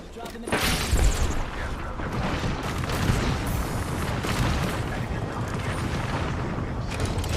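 A frag grenade detonates in Apex Legends with a heavy boom, followed by several seconds of dense rumbling battle noise and crackling shots, loud and continuous.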